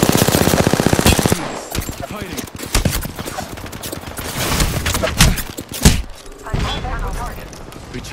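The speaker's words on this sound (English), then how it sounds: "The enemies are shooting at me." Rapid enemy gunfire in Apex Legends, loud bursts of automatic shots crackling close by, with a steady stuttering volley at the start followed by scattered heavier shots and impacts through the rest.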